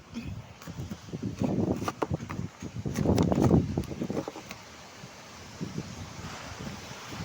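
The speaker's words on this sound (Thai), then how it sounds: "น่าจะเป็นลมหมุนครับ หมุนมาแต่ทางไหนไม่รู้ครับ" Strong gusty wind of a whirlwind during a storm sweeps across the microphone in buffeting surges, roaring loudest midway before easing to a steadier rush, with occasional rustling and brief voices.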